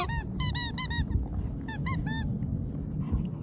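A squeaky rubber toy duck chewed by a dog, giving several quick bursts of sharp, high squeaks in clusters over a low rumbling background, close by.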